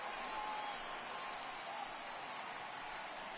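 A stadium crowd of over 38,000 in the MLB 18 baseball video game roars and applauds continuously, a dense, distant wash of cheering that stays steady throughout.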